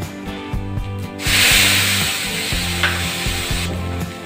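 A blended spice paste hits hot oil tempered with black cumin (kalo jeera), bursting into a loud, steady sizzle that rises sharply after a second of rhythmic knocking in a pan. The frying hiss stays strong nearby before easing slightly at the end.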